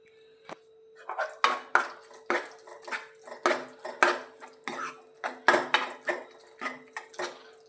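A spoon clinks and scrapes against a metal vessel while curd rice is mixed, close, repeated strikes in an uneven rhythm with short pauses, no talking.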